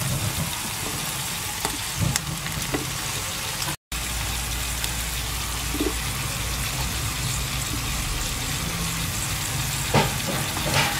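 Carrots frying alongside browned chicken pieces for a Moroccan tajine with potatoes and peas, a steady broadband sizzle with faint stirring clicks throughout, no voices.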